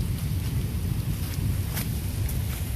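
A hailstorm in Cary, North Carolina, makes a dense, steady rattling patter of ice striking the ground and surfaces, continuous and fairly close with no voices.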